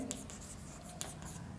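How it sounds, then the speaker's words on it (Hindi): Chalk or marker scratches across a classroom board in a few short strokes as a question is written out, faint and close with a quiet room behind. "मैं क्वेश्चन यहाँ लिखता हूँ"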